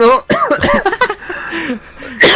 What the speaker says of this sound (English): Are you fine over there with your coughs?